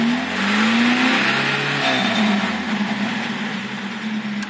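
Engine of an IZh-Oda 2126-030 car running steadily near the microphone with the choke off, idling at about 600–800 rpm with a continuous low hum and slight pitch wavering.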